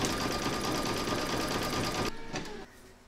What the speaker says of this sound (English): So pop your hoop into your machine and stitch round number 6.